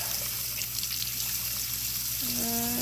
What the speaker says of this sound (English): let's turn on the hot water here